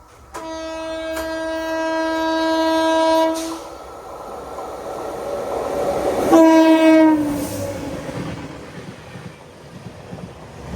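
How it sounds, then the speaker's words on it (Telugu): The Janmabhoomi Express passes at a single-track crossing near Tummala Cheruvu, sounding two loud, sustained horn blasts over a rising, heavy rail rumble that swells as the train goes by. "ఇక్కడ తుమ్మల చెరువు దగ్గర అయితే క్రాసింగ్ అయితే పెట్టారు జన్మభూమి ఎక్స్ప్రెస్ తోటి"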